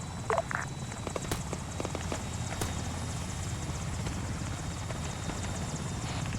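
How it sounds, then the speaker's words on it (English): A civilian helicopter arrives in the Arma 3 military game, its rotor making a steady, dense chopping rumble throughout with a few sharp clicks early on, moderately loud and without speech. "Next civvy helo is here."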